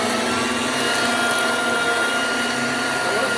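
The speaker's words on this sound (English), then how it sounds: "we'll just watch Phil vacuum my stairs" A Dirt Devil handheld vacuum cleaner runs continuously while vacuuming a staircase, a loud steady motor whine with airflow roar, close and unbroken throughout.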